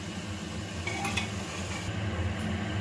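Potato pieces frying in oil with a pinch of salt and turmeric are stirred in a metal pan, giving a steady close sizzle with light scraping and occasional clinks of a utensil against the pan.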